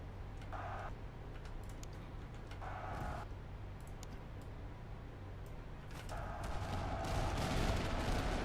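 Gunfire in a video game: a few sharp shots crack out in separate bursts, fairly quiet against a low background rumble, with a louder stretch of fire near the end.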